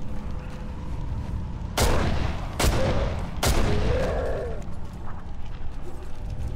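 Three loud, sharp gunshots spaced about a second apart in the video game Condemned: Criminal Origins, each followed by a short echoing tail over a low ambient rumble.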